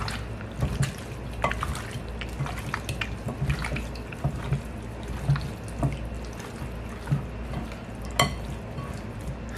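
Tap water runs steadily into a sink while hands are washed before handling raw chicken wings, with soft splashing and small clinks over a continuous close stream.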